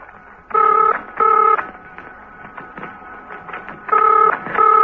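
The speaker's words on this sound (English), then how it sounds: "Steed's telephone was ringing" Telephone ringing in bursts of two quick electronic trills, loud and close, repeating with pauses and faint background sounds between.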